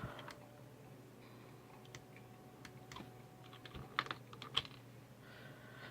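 Arrow keys pressed on a computer keyboard while browsing the Animal Jam website: faint, scattered taps against a steady low hum, with a few louder clicks clustered near the end.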